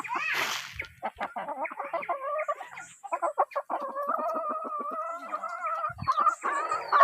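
Wild junglefowl (labuyo) calls, with a nearby rooster giving drawn-out crowing phrases and bursts of clucking over a few seconds, plus a short rustle at the start.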